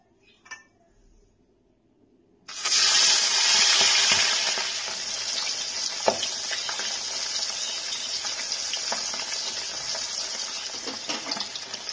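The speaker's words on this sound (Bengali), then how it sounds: "মাছগুলো আমার ভাজা হয়ে গেছে" Pabda fish, salted and coated in turmeric, hit hot oil in a wok with a sudden loud sizzle that settles into steady crackling frying, with faint talk.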